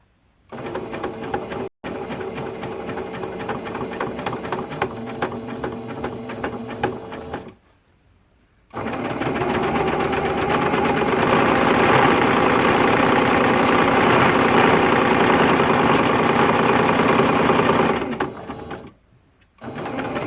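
A sewing machine runs in two long, steady stretches while stitching T-shirt quilt seams, with a brief pause between them, loud and close with a constant whirring rhythm.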